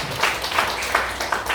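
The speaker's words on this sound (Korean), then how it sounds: "하나님 앞에 영광의 박수" A church congregation claps together during a Sunday worship service, a steady, fairly loud patter of many hands keeping a rough rhythmic beat.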